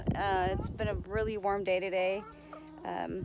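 Hens cluck excitedly inside a chicken coop on a warm, bright day, their busy calls overlapping and mixing with a person talking close by.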